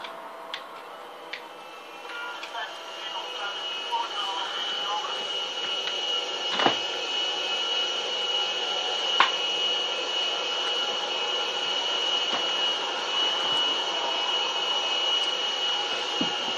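A steady, moderately loud whine and roar from the jet engines of a large orange airplane in a video game, continuous throughout with a few faint clicks and ticks over it.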